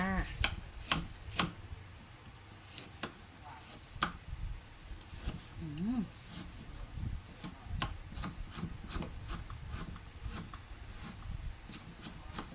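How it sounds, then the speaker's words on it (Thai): A knife chopping galangal on a board, steady repeated cuts with uneven rhythm, close by, with a soft rubbing and scraping in between. "หั่นต่อไปก็คือหัวข่าจ้า"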